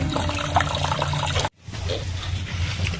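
Water runs steadily through a sewage cleaning system on its way from a collection tank toward a filter, a continuous close rushing flow that drops out abruptly for a moment and then resumes.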